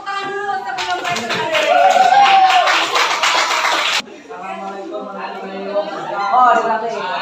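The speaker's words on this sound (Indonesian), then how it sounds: "beri tepuk tangan dulu sebelum mereka" Students in a classroom break into a burst of applause lasting a few seconds, then it stops and a teacher and students talk.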